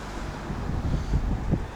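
Rough, rumbling wind buffets the microphone in uneven gusts, loud and close, with no one speaking.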